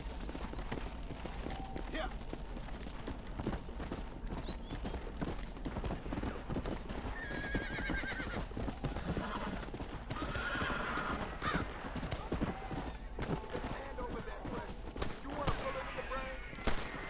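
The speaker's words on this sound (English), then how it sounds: "Damn horse." Horse hooves clip-clopping in a steady rhythm in a Wild West setting, with neighs and whinnies breaking through, moderately close, amid a busy mix of talk and other background noise.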